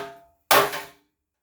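A big hammer strikes the dented steel roll pan of a squarebody Chevy truck: one sharp, loud metallic clang that rings and fades within half a second, after the tail of an earlier ring dies away.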